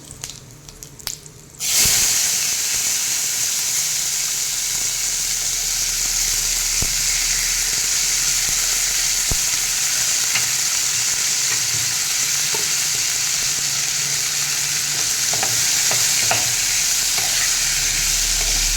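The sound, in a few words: cluster beans frying and stirred in spice masala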